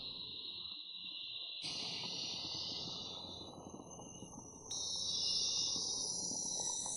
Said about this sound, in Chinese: 丛林当中知了的声音